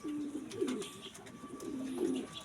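Pigeons in a breeding loft coo in two soft, low, rolling phrases close by, with faint chirps and rustling behind them.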